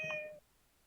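A single short, faint meow from a cat, a brief high wavering cry that cuts off after a moment and leaves near silence.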